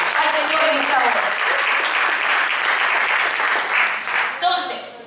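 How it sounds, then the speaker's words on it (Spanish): A church congregation claps together during a service, a dense, sustained round of applause close by that tapers near the end, with voices mixed in. "Vamos a dar un fuerte aplauso al Señor en esta hora."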